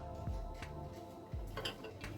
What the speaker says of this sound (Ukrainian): Ще ось така посуда є.